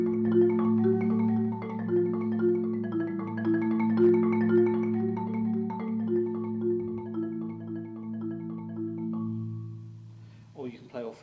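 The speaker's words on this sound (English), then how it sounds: "Often marimbas are written for to play with 4 sticks and can sound like this." Marimba played with four mallets, sustained low bars ringing under a busy stream of rolling, arpeggiated notes, steady and moderately loud, ending with a brief scuffle of noise.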